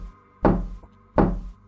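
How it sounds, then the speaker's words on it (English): Two slow, heavy knocks on a living room window, spaced about three-quarters of a second apart, each a loud close thud with a short decay, as a sound effect in a scary story. "eventually there were 3 slow knocks on the living room window."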